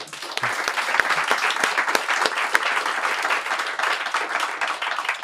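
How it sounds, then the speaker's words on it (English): Crowd applause for the winners of a startup pitch event, a dense continuous clapping with a few sharper individual claps standing out near the start, steady and fairly close for about five seconds. "Big round of applause for our winners"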